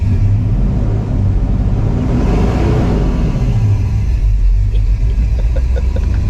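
GMC pickup truck engine running with a steady heavy low rumble that swells briefly as the gas pedal is pressed, loud and close, with no talking over it.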